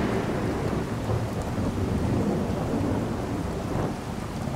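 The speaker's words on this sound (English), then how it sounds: "Oh, it's raining." Steady rain hisses in Fallout 4 under a low, continuous rolling of thunder. It is dense and close, with no voices.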